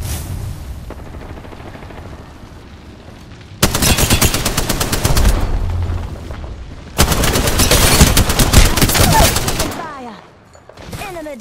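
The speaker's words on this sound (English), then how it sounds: "The enemies are shooting at me." Enemy gunfire in a video game, two long bursts of rapid automatic fire, loud and close, with a quieter stretch of shots and game sounds between and after.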